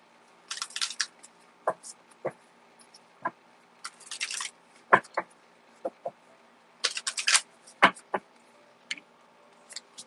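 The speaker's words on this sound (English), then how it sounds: "Just get a good shuffle in here" Tarot cards are shuffled close up in quick bursts of riffling and soft taps, separated by short pauses, with no talking.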